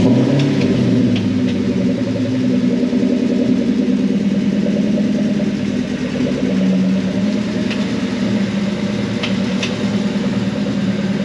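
A 1999 Ford Mustang Cobra's engine runs at a steady low idle throughout, close and loud, with a continuous rumbling drone and faint clicks.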